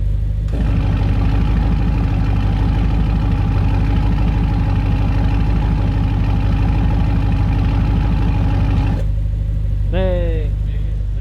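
A BMW X5 50i V8 SUV fitted with an aftermarket valved exhaust idles with a steady, deep, loud rumble, closing to a quieter hum near the end as a voice speaks briefly over it.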